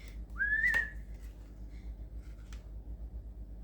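A person whistles a short rising tune, one clear phrase near the start, followed by a faint quieter note and soft background noise with no talk.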